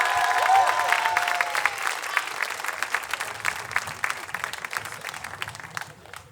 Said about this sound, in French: Un maximum d'applaudissements pour le battle,